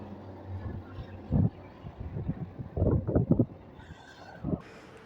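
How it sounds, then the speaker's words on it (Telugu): Gusty wind buffets the microphone in low rumbling bursts, rising and falling over a few seconds outdoors beside crop fields and a large canal during a bicycle ride. "అంత మంచి చల్లగా గాలి వస్తుంది"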